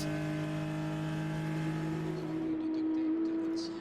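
Porsche Cayman GT4 race car at Spa-Francorchamps in a 2025 Belcar race, a loud, steady high-revving engine note holding pitch, then shifting lower as the car passes and fades toward the end.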